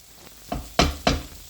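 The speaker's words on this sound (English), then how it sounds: "So I'm going to fry this for about 5 minutes" Tinned potatoes with spices fry in a pan, giving three short sizzling bursts spaced about a quarter-second apart over a quiet background, as if stirred or tossed; close and fairly soft, no talk.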